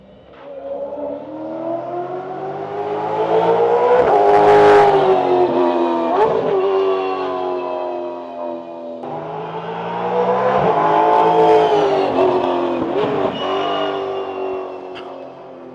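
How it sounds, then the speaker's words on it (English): Supercars on a demo run at the Bathurst 12 Hour circuit scream past in two waves, high-pitched V8 engines rising in pitch as they approach, peaking loudly and dropping away, the second car following several seconds behind. "I can hear the supercars coming"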